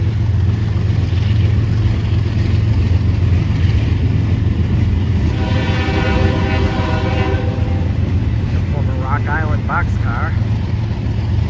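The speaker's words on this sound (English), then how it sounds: "The power of this train is number 5347, a GE ES40DC, and number 756, an ES44 ACH, also built by GE." CSX freight train pulling past behind two GE locomotives, an ES40DC and an ES44AC: a loud, steady low rumble of engines and rolling cars runs throughout, with a horn-like tone midway and wheel squeal near the end.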